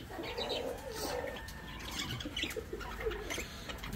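Pigeons coo softly close by, with repeated low throaty calls and a few brief chirps over light outdoor background noise, and no voices.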